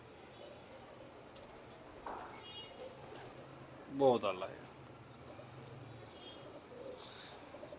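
Pigeons give a brief soft coo at a distance amid low background noise, while people talk nearby.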